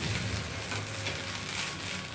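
Paneer and mixed ingredients stirred in a hot pan for Nabratan pulao, giving a steady, close sizzle with soft scraping throughout and no voices.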